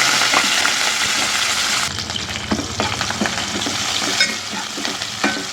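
Cumin, mustard seeds and chopped green chillies sizzle loudly in hot oil in a home kitchen. A steady frying hiss jumps sharply near the two-second mark, with scattered crackles and pops and a few light stirring clicks, and no voices.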